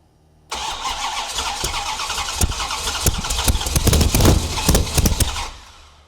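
Dodge Ramcharger engine cranking and catching abruptly, then running loud and rough with uneven popping pulses before fading out near the end.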